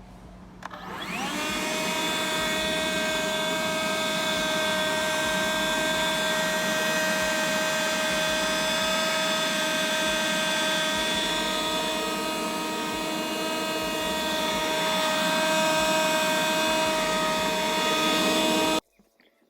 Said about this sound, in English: So I wanted to see how loud this leaf blower was at various distances.